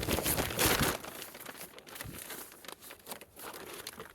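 Dry leaves are stuffed into a bag during backyard cleanup, giving close, continuous crinkling and crunching, loudest at the start and then in rustling bursts, with no talking.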